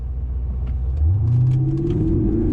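Porsche Panamera launching hard under Sport Response launch control, its engine rumbling low and steady, then surging and rising in pitch as it pulls away. The engine is loud and close, with no talk over it.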